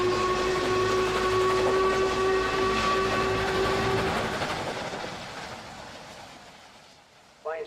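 The Flying Scotsman steam locomotive rumbles past close by with a sustained steady whistle tone, the noise fading gradually into the distance before a brief whistle at the end.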